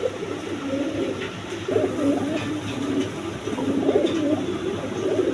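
A pigeon loft full of quality pigeons for sale, some paired with chicks, fills the air with steady, overlapping cooing from many birds close by, a continuous low warbling chorus with no talking.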